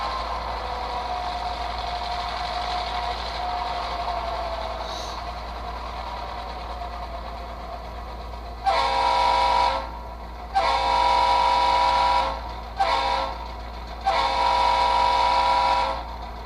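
Quilled steam whistle from an HO model locomotive sound decoder played through a small iPhone speaker, several loud sustained blasts of varying length following a quieter rumbling engine sound.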